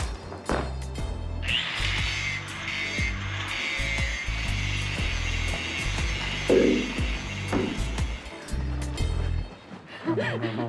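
A whining angle grinder runs for several seconds over a background music bed, high and steady with a slight rise and fall as it works, then cuts off.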